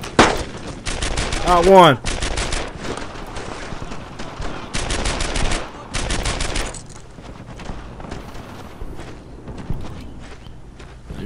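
Covering gunfire in the World War II shooter Brothers in Arms: Earned in Blood, with loud bursts of automatic rifle and machine-gun fire in repeated volleys, and someone talking briefly over the shooting.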